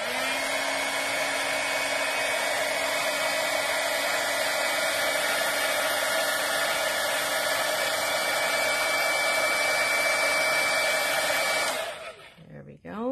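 Heat gun melting white embossing powder on black paper for a card, a loud steady blowing whine held close for several seconds before it cuts off near the end.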